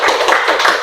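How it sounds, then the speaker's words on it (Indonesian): Brief burst of applause from a classroom group for the first student team after its presentation in a teacher-training practice lesson, dense clapping throughout with no talk. "tepuk tangan untuk kelompok 1"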